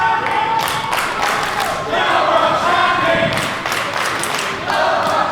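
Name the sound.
crowd cheering at wrestling event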